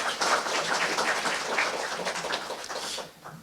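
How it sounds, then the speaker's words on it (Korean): A forum audience gives a round of applause for a speaker, moderately loud dense clapping that fades out near the end. "박원석 소장님께 다시 한번 박수 부탁드리겠습니다"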